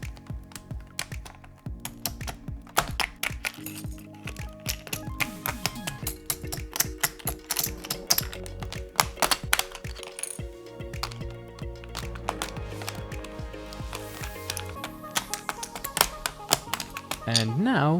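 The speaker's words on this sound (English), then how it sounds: "Let's get the keycaps off at least." Plastic keycaps are pried off an EPOMAKER Shadow-X mechanical keyboard, producing a dense, continuous run of sharp clacks and taps over a steady background tone.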